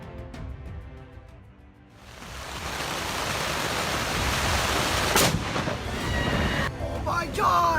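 A lightning strike's thunder during a severe summer storm in Vermont swells into a loud, sustained broadband roar and rumble after a quieter opening, carrying on steadily to the end with a sharp crack partway through.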